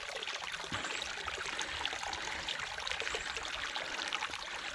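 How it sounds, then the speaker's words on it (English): Rainwater trickles and splashes down a small waterfall at a campsite on a wet day, a steady close hiss of running water with no talk. "Got me own little waterfall."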